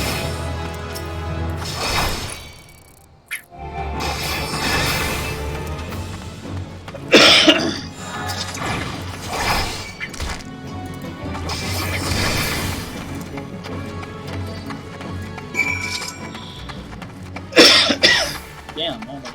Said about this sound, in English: Damn, I don't know why I'm coughing so much.